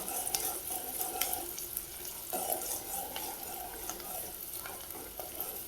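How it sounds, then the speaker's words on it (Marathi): Chopped onion sizzles softly in oil in a pan as the base for a mutton curry, with scattered stirring clicks and scrapes over a steady low frying hiss. "कांदा जरा परतून घ्यायचा थोडासा उग एक तेलात परतून घ्यायचा"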